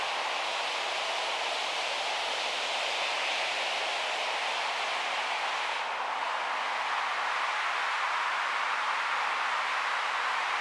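Synthesized rain built from white noise and washed out with reverb: a steady, even hiss with no distinct drops, holding constant for the whole stretch apart from a slight dip midway.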